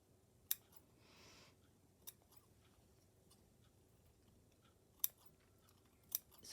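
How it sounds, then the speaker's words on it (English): Scissors snip fabric during slow stitching work: four sharp, isolated clicks spaced irregularly against a quiet room, with a faint rustle between them. "Let me get my scissors."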